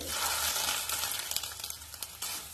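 Hot tempering with curry leaves is poured over a vegetable thoran, giving a close, steady crackling sizzle that fades slightly over a couple of seconds.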